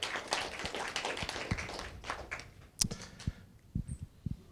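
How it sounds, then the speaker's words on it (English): Scattered clapping from a modest audience at a members-of-the-year awards event, fairly quiet and thinning out into a few sparse claps and taps toward the end. "give yourselves a round of applause"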